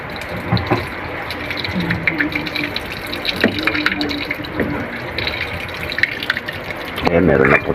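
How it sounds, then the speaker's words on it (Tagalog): Water is poured into a pot of pork being prepared for sisig, a steady close splashing and gushing fill that runs throughout, with a louder gurgling burst near the end. "Lagyan natin ng tubig."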